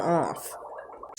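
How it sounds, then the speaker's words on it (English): A child blows bubbles into milk through a straw, giving a soft gurgling, bubbling sound beneath a nearby voice, with a brief louder burst at the end. "you can hear her blowing milk bubbles with a straw in the background in case you're wondering what that bubbling noise was"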